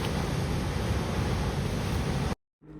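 Churning class 2 to 4 whitewater rapids at the gravity-fed US National Whitewater Center roar as a loud, continuous rush of water, which cuts off abruptly near the end before a faint return.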